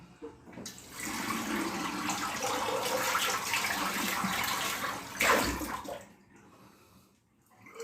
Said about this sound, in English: Bit of running water.